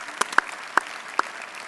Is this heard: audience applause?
yes